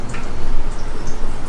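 Canola oil pours into a cooking pot for Nigerian pepper stew, giving a close, loud, continuous wet glugging and squishing pour with no talking.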